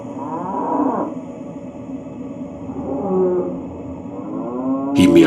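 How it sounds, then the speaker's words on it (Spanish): A cow on a ranch moos from near a fence, giving a long low drawn-out call, then a second, softer bellow, with a sharp noise at the very end. "el animal soltaba un mugido desde la cerca para llamar su atención"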